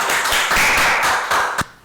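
An audience applauding to welcome a lecture speaker, a brief burst of dense clapping with a few sharper individual claps near the end.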